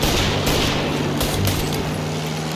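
Gunfire in Mafia: Definitive Edition, a few sharp shots cracking over a steady game background hum, spaced irregularly through a brief stretch.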